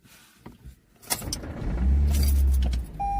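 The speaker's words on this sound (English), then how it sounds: "I just crashed my fucking car" A car in a video game slams into a parked car, a sharp impact followed by a loud, sustained low rumble of crunching and engine noise lasting a couple of seconds, ending with a brief electronic tone.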